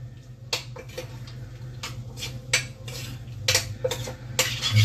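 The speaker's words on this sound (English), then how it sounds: "Mix it all up." Cooked tomato saag stirred in a pot, a series of close scraping and clinking spoon strokes against the metal in an uneven rhythm over a low steady hum.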